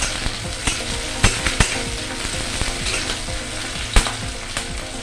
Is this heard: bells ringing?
no